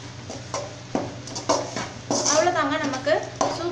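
A utensil scrapes and knocks against a pan in uneven strokes as mashed potato is stirred, with a person talking over it.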